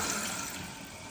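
Water rushes steadily through a toilet fill valve into the tank, a continuous broadband hiss of filling water, close and fairly even throughout, with no talking.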